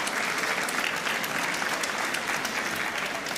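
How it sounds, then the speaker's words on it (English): Audience clapping at a teacher of the year celebration, a sustained crowd of hands beating steadily at moderate loudness with no voices on top. "yes, you can clap for that."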